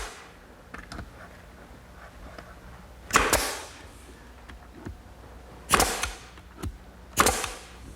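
Nails, 1¼ inch, driven into wooden coffee table panels, heard as a few sharp separate impacts, three or four louder strikes spread across the stretch with quiet pauses between.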